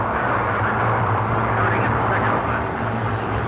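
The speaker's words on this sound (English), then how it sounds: "She's a 3-point suspension hydroplane and is designed to ride on only a few scant inches of surface at this speed." Hydroplane racing boat, a three-point suspension design, skimming a few inches above the water at about 150 mph: a steady, loud engine roar with wind and water rush filling the whole stretch, with no gaps.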